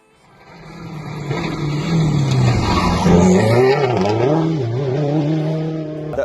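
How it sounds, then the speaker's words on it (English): A rally car from a Ceredigion rally drives at speed, its engine note rising and falling loudly and steadily as it revs through the gears, with no talking. "we'll put some footage of the rally car on"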